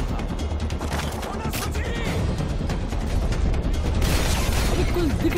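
Gunfire from Call of Duty: Modern Warfare 3 rattles in rapid, dense bursts with crashing impacts, loud and continuous throughout.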